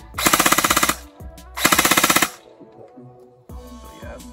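Airsoft gun firing two rapid full-auto bursts, each a fast rattling string of sharp cracks lasting about a second, loud and close, followed by quieter handling clatter.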